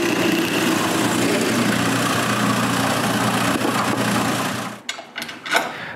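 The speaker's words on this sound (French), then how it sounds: "J'ai juste à percer des trous pour les boulons qui sont dans la glissière." A power drill boring bolt holes through a wooden saw guide runs with a steady, loud motor whine for about five seconds, then stops abruptly, leaving a few short clattering knocks.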